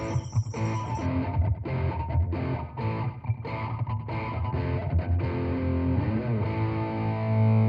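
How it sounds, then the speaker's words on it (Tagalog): Loud, close electric guitar pushed through a distortion pedal, with thick, fuzzy chords strummed in a steady rhythm and sustained notes ringing throughout; no voices. "Ngayon naman, engage natin distortion."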